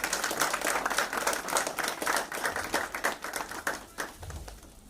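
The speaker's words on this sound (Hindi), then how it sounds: "तो उनके लिए भी ताली बजा दीजिएगा" Applause from an audience in a hall at a company anniversary event, a dense burst of many hands clapping that gradually thins and fades toward the end.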